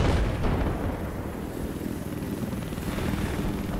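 Helicopter in the video game Battlefield 4, a steady, loud rotor and engine roar with rumbling low end filling the whole stretch, no speech over it.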